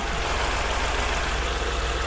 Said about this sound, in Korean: 자, 엔진 소리 한번 들어보시죠.